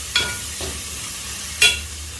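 A spoon stirs and mixes green apple pickle ingredients, with three short scraping swishes spaced over about two seconds against a low background hum.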